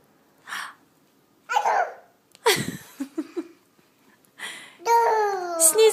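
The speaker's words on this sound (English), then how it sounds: "are you sneezing?" A young child sneezes in short, sharp bursts separated by pauses, heard close and alone, with breathy sounds and a high vocal squeal at the end.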